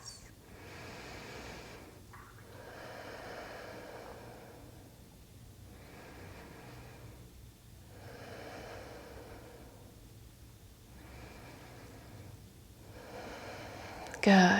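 Slow, deep yoga breaths come in long, even cycles, each soft airy inhale and exhale rising and fading about every two to three seconds, quiet and close, with a rustle at the end.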